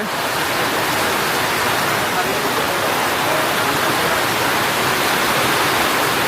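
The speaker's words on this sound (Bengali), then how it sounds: "বৃষ্টি বেশি বেড়ে গেছে ভাই" Heavy monsoon rain on the road near Barisal, Bangladesh, pours down in a dense, unbroken roar, loud and constant from start to finish.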